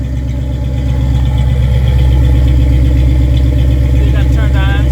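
Truck engine idling with newly installed exhaust mufflers, a loud steady low rumble throughout, with a voice briefly heard near the end.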